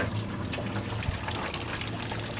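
Water drains from a leaking sub hose, making a continuous gushing, splashing flow with low gurgling, steady and fairly close throughout.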